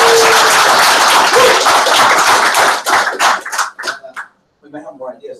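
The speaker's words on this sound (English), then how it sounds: "Big round of applause for Nick." An audience at a blockchain naming workshop applauds a speaker with loud, dense clapping that thins into a few last claps after about three seconds, followed by a brief silence and then a voice starting to talk.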